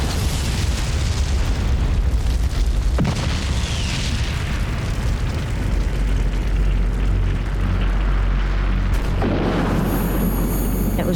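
A massive explosion of explosives stored in a bunker rumbles loud and sustained, deep booming energy rolling on throughout with a sharp burst partway, no talk.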